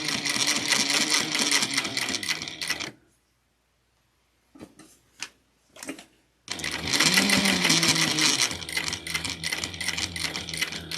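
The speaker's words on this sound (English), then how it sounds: "I'm just going to back stitch once." A sewing machine stitching a clutch wallet runs in rapid, steady mechanical bursts, stops for a short pause with a few clicks as it reverses to back stitch, then resumes its loud, even whirring.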